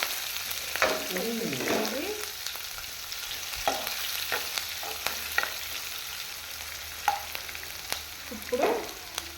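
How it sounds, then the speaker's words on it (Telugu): Mustard seeds, cumin, green chillies and chopped onions fry in hot oil for panipuri filling, a steady close sizzle and crackle broken by bursts of stirring and spattering, with no voices. "ఆయిల్ మంచిగా వేడైపోయింది ఆవాలు జీలకర్ర వేగిపోయినాయి"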